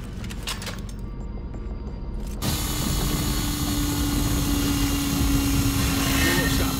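A drill bores through a hydraulic seal in Call of Duty Ghosts: a loud, steady mechanical grinding drone kicks in abruptly partway through and runs to the end, with a faint voice in the background before it starts.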